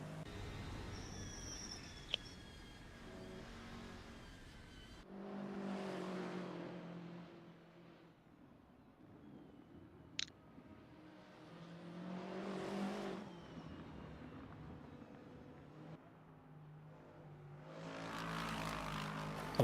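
A Lamborghini race car in a racing video game at Interlagos passes by repeatedly, engine notes swelling and fading in several waves, fairly faint with brief clicks in between.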